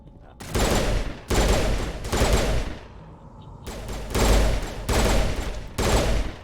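Burst-fire gun in the Mass Effect video game firing repeatedly: six or seven loud, rapid bursts of shots, each lasting about half a second to a second, separated by short gaps of near silence.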